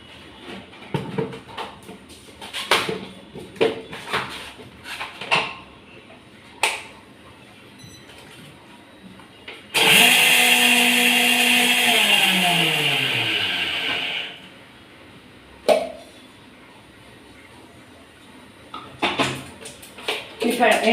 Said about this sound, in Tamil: எண்ணெயில் கடுகு போட்டிருக்கேன்.